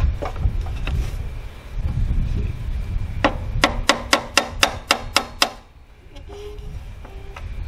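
Gate parts being tapped together to seat a joint, a run of about eight sharp, evenly spaced knocks, close and clear, with faint rustling around them and no talk.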